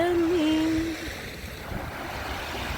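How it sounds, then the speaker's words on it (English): Ocean waves roll in a steady, rushing wash of surf, with a sustained voice-like tone over the first second before the water sound carries on alone. "That's the song that I hear from the waves."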